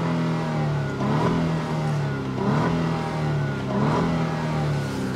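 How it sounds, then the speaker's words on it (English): A 2021 Genesis GV80's engine is revved through its dual stainless steel exhaust with chrome tailpipe finishers. Three rising-and-falling revs sound over a steady idle, clear and close with no talking. "Let's take a second and listen to that exhaust note."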